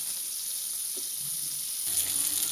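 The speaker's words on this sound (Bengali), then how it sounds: "মাছটাকে একটু ঘুরিয়ে ভেজে নিচ্ছি" Pieces of fish shallow-frying in a pan for a potato and pointed gourd fish curry: a steady, bright sizzle that swells louder near the end, with no one talking.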